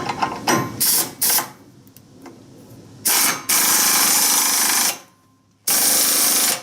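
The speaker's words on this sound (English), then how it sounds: "So if I just torque those, it'll probably go." A power tool drives bolts while building ramps for a Polaris Slingshot in a garage, firing in loud, sustained mechanical bursts of varying length with quieter clicking and pauses between them.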